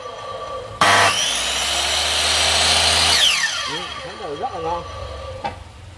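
A C8FC sliding saw bites into wood with a loud, close, sustained whine that cuts off abruptly, followed by the motor spinning down and a faint knock at the end.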